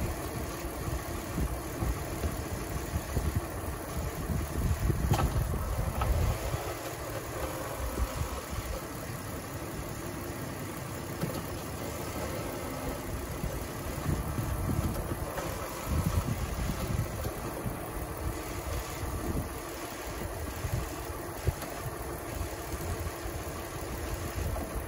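A Dodge Grand Caravan minivan from the 2008–2020 generation runs steadily after a drive while being shifted through a couple of gears, a continuous low engine hum with slight surges, heard alone and up close.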